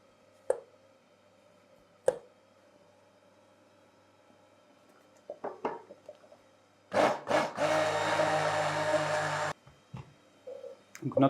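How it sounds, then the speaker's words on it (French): An immersion blender whirs through chestnut paste with rum for Easter chocolate filling, a steady buzzing burst of about two seconds after a few scattered knocks and clatters from the bowl. "Et on va pouvoir lier le tout maintenant au mixeur plongeant"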